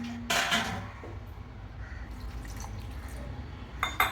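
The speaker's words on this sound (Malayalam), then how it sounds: "കുറച്ചുകൂടെ വെള്ളം വേണം. വെള്ളം ഇട്ട് കൊടുക്കാം." Water is added a little at a time to spicy pazhampori batter in a bowl, with a couple of short close splashes and drips separated by quieter stirring and background hum.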